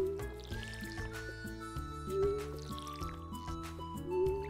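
Stardew Valley watering can splashing over crops, a string of soft liquid drip effects at a regular pace beneath prominent background game music, no voices.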